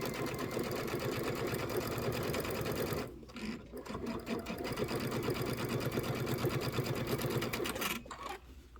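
A sewing machine stitches quilt pieces in a steady, rapid mechanical whir, with a brief pause partway through before it runs again.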